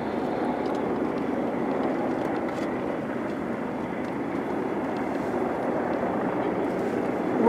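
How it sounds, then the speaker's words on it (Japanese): A Mitsubishi MRJ regional jet taxis slowly toward the runway: a steady, fairly distant engine rumble and hiss holds at an even level throughout, with no voices. "MRJ は右に向かって滑走路へとゆっくりと動き出しました"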